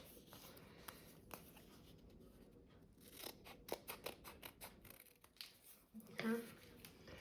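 Scissors snipping around cut vinyl lettering of a name, a series of close, crisp clicks and slices that quicken midway, over faint paper rustling, no speech.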